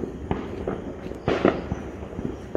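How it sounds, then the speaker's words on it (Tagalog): New Year fireworks and firecrackers crack and pop in several sharp bursts, some near and loud, others farther off, over a steady background of distant celebration. "Ang daming mga paputok dito sa Naradin pala."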